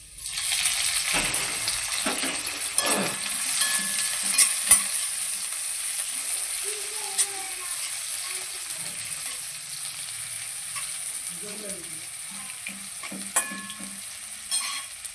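Onion frying in a pan for chicken lollipop gives a sizzle and crackle, with scattered clinks and stirring scrapes of a utensil against the pan, close and fairly steady.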